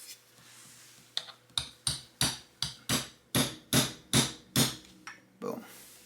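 Hammer striking a punch through a leather sheath to make stitching holes, about a dozen sharp, evenly spaced close blows in steady rhythm over a faint background hum.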